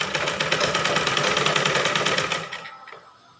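A sewing machine runs fast and close as it stitches blouse pieces together, a rapid even rattle that stops abruptly near the end, followed by quiet.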